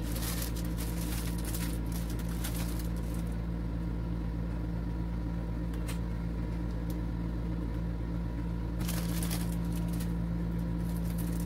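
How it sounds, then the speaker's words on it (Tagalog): An air conditioner running indoors in hot weather, a constant low hum and steady hiss that fills the whole stretch, with faint clicks and brief rustling noises on top and no talking. "Pasensya na kayo kung maririnig niyo yung aircon, yung tunog ng aircon"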